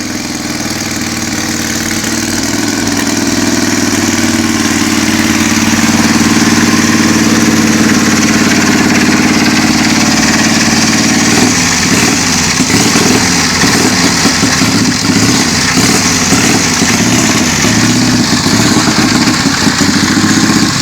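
A 1920 Indian Scout motorcycle engine idles loud and close, a steady rumbling run that settles into a more distinct pulsing, knocking beat about halfway through, with no voices.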